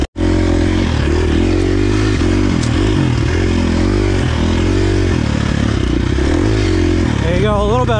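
A 2023 KTM 350 XC-F dirt bike is ridden on steady throttle, its engine loud and close throughout, with the pitch swelling and dipping as the rider holds the gas and a quick rising rev at the end.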